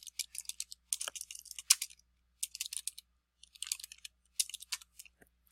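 Fast, crisp keystrokes tap on a computer keyboard in quick clustered bursts with short pauses, close and clear, with no talking.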